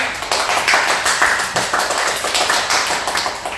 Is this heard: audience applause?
yes